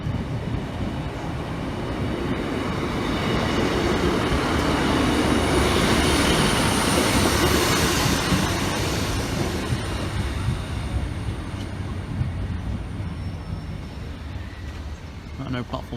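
A train pulls away from a railway station platform, a loud sustained rumble of wheels and carriages with metallic squeal and rattling building and then easing, while people talk nearby.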